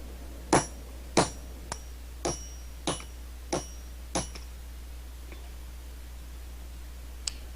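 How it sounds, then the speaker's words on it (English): Seven sharp hammer blows ring out on thermally cycled tool steel at a blacksmith's anvil, struck at a steady rhythm of roughly two per second with bright metallic ringing, then a faint tap and a lone click after a pause. "I have to do a lot more hammering on it to get it to break."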